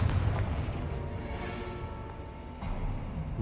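A Confringo fire spell explodes in Hogwarts Legacy, a booming blast that opens loudly and rolls on with a rumbling tail, followed by a second, softer burst.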